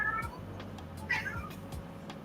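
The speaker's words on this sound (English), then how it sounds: "That's Gandalf, if you can hear the meowing." A cat meows twice, fairly faint, the second call louder, amid a quiet room with soft clicks.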